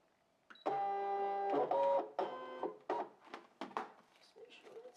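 Brother ScanNCut machine loading a fabric mat with an applique sheet, a close motorized whir with stepped tonal buzzing followed by several short mechanical clicks and whirs.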